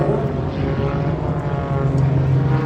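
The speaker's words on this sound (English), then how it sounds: "On the other 3 aircraft, head off for a stall turn" Propeller-driven aerobatic aircraft flying at the Shellharbour airshow give a steady, droning engine hum with a strong low tone, moderately loud and continuous, as if passing at some distance.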